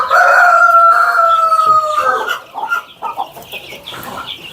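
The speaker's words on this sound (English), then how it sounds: "These are Brahma chicks." Brahma chickens on a farm in Kajiado give a loud, sustained crow-like call for about two seconds, then break into a scatter of shorter, quieter clucks and chirps close by.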